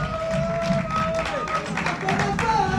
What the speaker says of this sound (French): Applaudissez très fort pour Azak